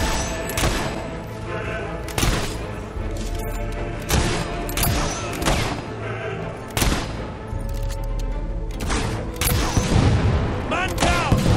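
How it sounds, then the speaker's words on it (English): Enemy gunfire in Fable 3, a run of sharp shots and thudding booms scattered irregularly through a busy battle din, some close and loud, others duller and further off. "The enemy's shooting at"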